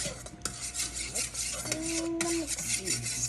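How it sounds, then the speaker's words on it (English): A spoon stirs boba pearls in a bowl, making soft scraping and clinking strokes with a few sharper taps, close and steady, and a faint voice in the background. "Now we grab a spoon and mix."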